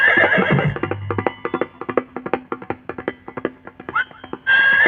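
A horse gives a loud whinny at the start, followed by a steady patter of hooves clip-clopping for several seconds, with another neigh near the end, all close and clear with no talking.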